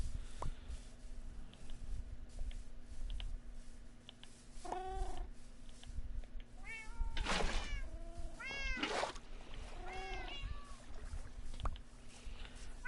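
Several cats in the game Minecraft meow in short, separate calls over a low background hum. The meows are spaced irregularly and some overlap near the middle.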